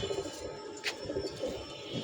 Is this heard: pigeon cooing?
yes